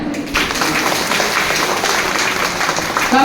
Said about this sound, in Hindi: हाँ ताली बजा।